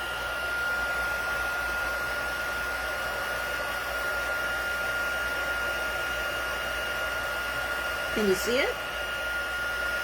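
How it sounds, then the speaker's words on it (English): A heat embossing tool blows hot air over a heat-embossed stamped image, a steady broadband whoosh held for the full duration, with a brief soft voice near the end. "I got my my heat tool going."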